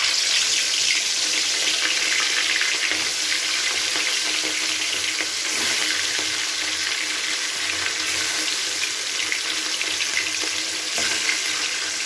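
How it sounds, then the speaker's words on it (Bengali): Rohu fish pieces frying in well-heated oil in a kadai, giving a steady, loud broadband sizzle that holds evenly throughout with no talking. "এবার আমি মাছগুলোকে খুব ভালো করে ভেজে নেব।"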